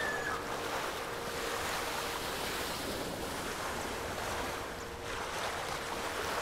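A character swims through water in the video game Ghost of Tsushima, with a steady wash of waves and surf and some wind that stays loud and continuous.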